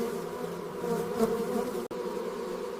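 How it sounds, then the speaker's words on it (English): Honey bees at a small, exposed wild colony give a close, continuous droning buzz that swells briefly near the middle and is cut by a short click. "Wing movements help process the liquid nectar even inside this small, exposed colony."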